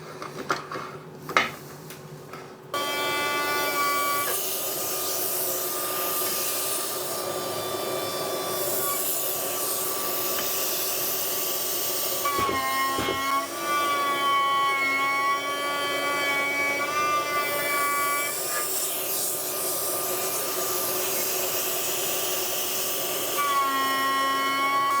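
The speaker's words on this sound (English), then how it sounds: "It's a router motor with an end mill with a V-block above it." A router motor fitted with an end mill, set above a V-block on a modified HSK32 bench vise, starts after a few scattered knocks and then runs with a steady, loud whine for the rest of the time.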